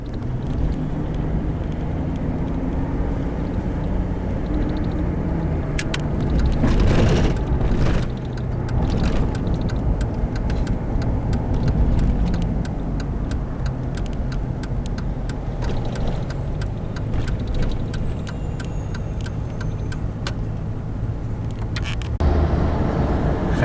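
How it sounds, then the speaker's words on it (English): A car drives along in traffic, a steady low engine and road hum from inside the cabin, with rapid ticking clicks through part of the stretch and a brief louder rumble partway in. "So we're gonna just keep driving."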